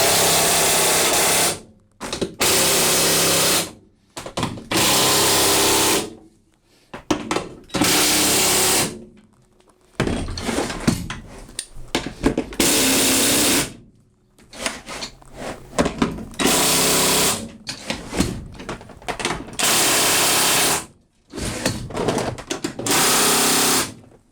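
A power drill driver on torque setting 2 whirs in about eight loud, close bursts of a few seconds each, separated by brief pauses, while a swivel seat is fitted after a bulkhead is removed.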